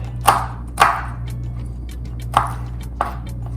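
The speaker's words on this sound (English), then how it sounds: "I'm gonna crush the 2 cloves of garlic. I'm gonna chop it up" A knife chopping crushed garlic cloves on a board, four sharp, distinct cuts spaced unevenly over a steady low hum, close and clear with no talk.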